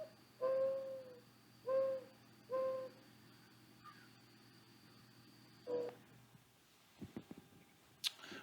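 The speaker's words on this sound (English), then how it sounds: "That is the song of our friend the mourning dove." A mourning dove gives its soft, low hooting song of a few drawn-out notes, clear and fairly close, with no talking.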